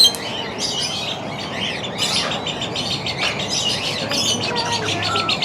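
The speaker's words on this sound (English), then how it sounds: "What a cute little bird." Geese and other birds call at a zoo in Melbourne, Florida, a busy overlapping stream of honks, chirps and squawks, fairly loud and close, with outdoor background noise.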